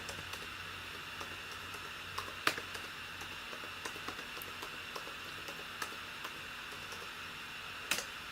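Scattered faint clicks of typing on a computer keyboard come at an uneven pace, with a couple of sharper taps standing out above a quiet background hiss.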